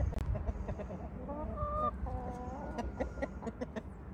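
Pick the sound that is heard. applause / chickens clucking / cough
chickens clucking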